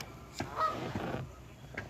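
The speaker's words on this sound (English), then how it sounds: "There's one goose that's bullying the others and making them want to run a lot." Geese honk on a lake, a few loud calls close by, with one goose chasing and bullying the others.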